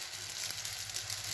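Egg paratha frying in oil in a pan gives off a steady, close, fairly quiet sizzle with a fine crackling hiss and no talking.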